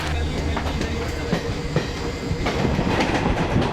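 A train runs steadily along the rails with a continuous loud rumble and rhythmic clickety-clack from the wheels, heard up close for the whole stretch.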